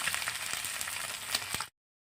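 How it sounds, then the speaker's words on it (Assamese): Eggs frying in a pan for a chowmein burger give a steady moderate sizzle with a few soft taps of a spatula before the sound cuts off abruptly, no talking. "কণীটো ওলোটাই দিম আৰু ঠিকেই একেই প্ৰচেছমতে 4টা কণী ভাজি ল'ম"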